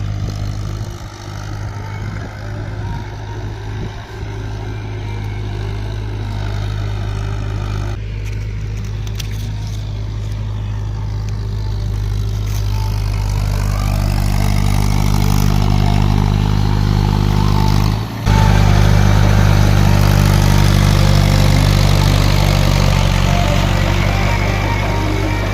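A tractor fitted with iron cage wheels puddles a flooded paddy field, its diesel engine droning loud and steady throughout, rising in intensity partway through as it works close by, with a brief dip near the end. No talk.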